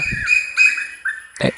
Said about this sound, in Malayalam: കിളിയുടെ സൗണ്ട് വരുന്നതാണ്